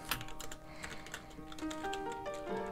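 Rapid, irregular clicking from a computer mouse during a Roblox Volleyball match, steady and close throughout over faint game music tones, with no talking.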